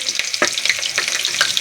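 Onion sizzles and crackles in a hot pan with spinach, cooking for palak gosht, a steady close frying hiss with small pops and a few louder spatters.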